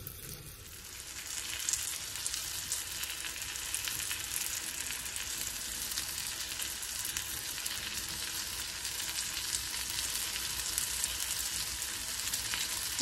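Morel mushrooms fry in melted butter in a pan over medium heat, giving a steady, dense sizzle and crackle that holds close and even throughout, with no talking.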